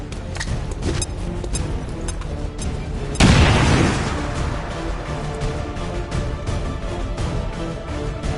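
A frag grenade detonates in the video game XCOM 2, a single loud boom with a rumbling decay that cuts through a steady bed of game background sound, with no talking.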